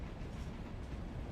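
A long freight train hauling rock rolls past with a steady, dense rumble and low wheel noise, continuous and fairly distant, with no talking.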